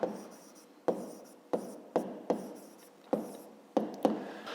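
A pen writes down a math calculation for a fifth-grade problem on paper, with a series of about nine short distinct strokes in an irregular rhythm, each one sharp at the start and then fading, close and fairly quiet, with no talking.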